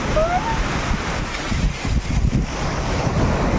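Sea waves and wind at a beach, loud wind buffeting the microphone over a continuous roar of surf, with a faint voice briefly in the background.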